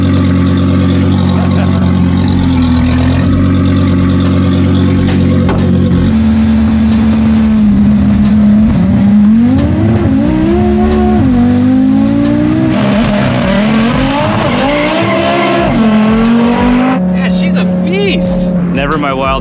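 Hoonicorn Mustang race car driven by a driver, its engine loud and continuous with rising and falling revs and tire squeal throughout, voices talking over it.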